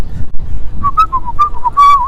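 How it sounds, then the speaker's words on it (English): A person whistles a short, bright tune of several pitched notes over faint, low background music, fairly loud and close, with no talking. "Whistle over the music."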